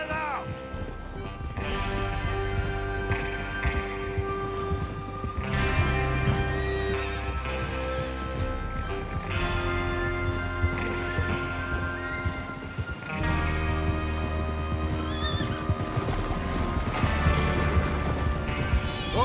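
Horses whinny and neigh repeatedly in the outlaw western video game Red Dead Redemption 2, with hooves clip-clopping underneath, all mixed with a dense background score and some voices.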